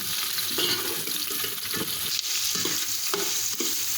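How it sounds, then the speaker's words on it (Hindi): Chopped onions fry in a hot pan for chicken biryani, a steady close sizzle with scraping stirs and light clatter running throughout. "अब ये प्याज डाल के इसको हल्का ब्राउन करूँगी"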